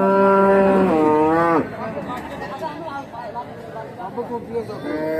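A local desi cow gives one long, loud, close moo at the busy Charmonai cattle market near Barishal, followed by a crowd's chatter and a fainter low call near the end.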